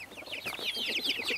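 Several chickens clucking close by in quick, overlapping calls, a busy flock chattering steadily with no talking.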